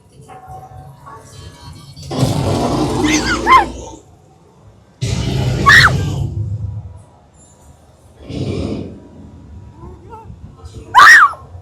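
Loud, piercing screams ring out inside a Mars-themed haunted house attraction at Howl O Scream 2025. They come in a few separate bursts with pauses between, and other voices can be heard around them.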